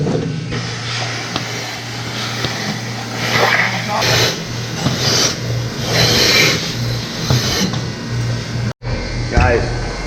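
A milk hauler truck pulls in during a blizzard, its engine a steady rumble and whine building and easing over several seconds, with people talking nearby and a sharp cut near the end.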